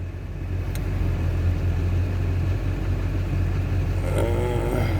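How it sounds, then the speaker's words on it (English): A 2004 Chevrolet Silverado 2500 pickup with a Duramax diesel engine idles close by, giving a steady, unbroken low rumble with a faint rattle throughout and no voices. "let's go ahead and turn this guy over for the glow plug"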